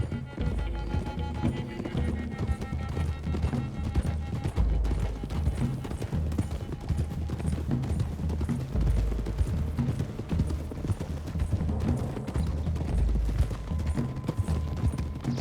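Steady clip-clop of several horses' hooves on a road, with occasional whinnies and voices over a dense soundscape from the game Red Dead Redemption 2.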